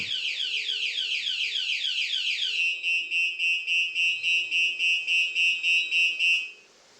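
A loud electronic car alarm, a Bluetooth keyless PKE system, cycles through rapid rising whoops, then switches to a steady pulsing beep before cutting off abruptly.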